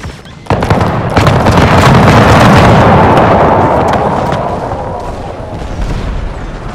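A musket volley in Total War: Empire erupts as a sudden loud crackling roar of many shots, then rolls on as a dense, slowly fading rumble of gunfire and smoke-filled battle noise.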